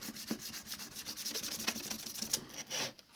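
Sandpaper rubs back and forth over a sheet of acrylic plastic, a quiet, raspy scratching in quick repeated strokes with short pauses, close up and with no talking.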